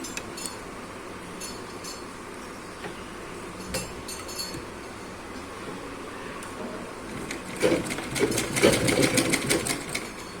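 A sewing machine stitches along the thin folded edge of a cross-cut blouse, a faint steady hum for most of the stretch that grows louder and more rattly near the end.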